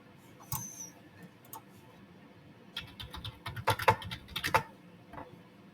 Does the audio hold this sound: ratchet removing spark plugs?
no